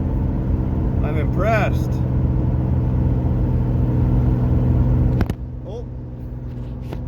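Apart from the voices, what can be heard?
engine of a 1986 Camaro running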